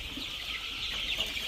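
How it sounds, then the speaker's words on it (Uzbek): Young black chicks peep in a dense, continuous chorus of high chirps, close and steady, with no talking. "Hay, jo'jalarni qarang"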